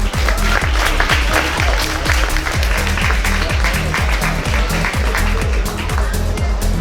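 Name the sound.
applause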